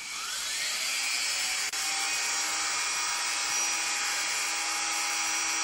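Steady high-pitched whine of a Dremel rotary tool with a sanding wheel grinding against a hollow eggshell, continuous and close, with a faint buzzy vibration and a brief dip partway through.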